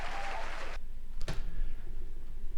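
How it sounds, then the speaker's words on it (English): Applause sound effect, a short burst of crowd clapping that cuts off abruptly, followed by a brief sharp knock and low room rumble. "The applause was on purpose."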